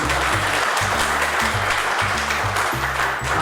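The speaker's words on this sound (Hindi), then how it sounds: "जोरदार तालियों के साथ में मंच पर आमंत्रित करता" Audience applauding at a college retirement function, dense steady clapping throughout with a low music beat pulsing underneath.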